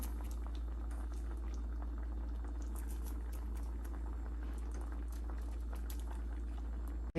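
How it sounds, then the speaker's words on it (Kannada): A pot of rice and water, with coriander and mint added, comes to a rolling boil, giving a soft, continuous bubbling and popping over a low steady hum, fairly faint and with no talk. "ಈಗ ಕುದಿ ಬಂದಿದೆಯಲ್ಲ, ಈಗ ಇದನ್ನು ಮುಚ್ಚಿ ಸ್ವಲ್ಪ 10 ಮಿನಿಟ್ಸು ಕಮ್ಮಿ ಸಿಮ್ಮಲ್ಲಿ ಅನ್ನ ಬೇಯಲಿ"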